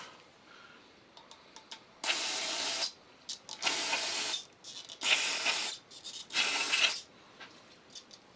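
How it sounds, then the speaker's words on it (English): Carb cleaner squirts into a KZ550 motorcycle carburetor in four strong, separate bursts of spray. Short hissy puffs sit between them, close and clear with no voices. "I'm going to go ahead and squirt a little more carb cleaner down through here."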